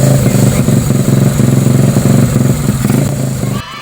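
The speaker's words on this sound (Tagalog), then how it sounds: "Aandar na ang ating Wave 100 na ginawang trail bike" A Honda Wave 100 converted into a trail bike, its engine fitted with a 56mm block, runs loud and close with a steady pulsing idle and quick revs before cutting off at the end.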